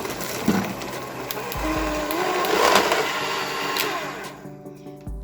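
An electric mixer running slowly, beating cranberries and chocolate chips into vegan white chocolate cookie dough, a steady close whirring drone with slight swells that fades out at the end.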